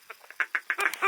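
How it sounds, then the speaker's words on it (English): A large flock of mallard ducks quacking during early youth duck season, a rapid overlapping run of nasal quacks growing louder and denser toward the end, fairly close, with no talk. "that was a massive group of mallards"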